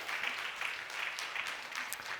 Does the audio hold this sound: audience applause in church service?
yes